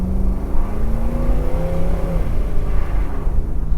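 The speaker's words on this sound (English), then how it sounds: "That was all wheel spin." A 1972 Ford Mustang Mach 1 V8 engine revs hard under full throttle, with a loud rising roar and a steadily climbing engine pitch that levels off midway, heard close and alone with no voices.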